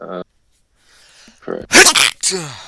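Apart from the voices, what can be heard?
sneeze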